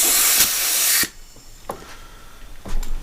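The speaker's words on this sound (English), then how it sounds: "I got my air compressor." Compressed-air blast from a shop air compressor cleaning fuel injectors of a 2013 Mercury 250 ProXS outboard: one loud, close, steady hiss lasting about a second, then quieter clicks and handling noises.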